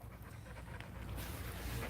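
A muddy dog panting close by, rapid rhythmic breaths running continuously, with no voices.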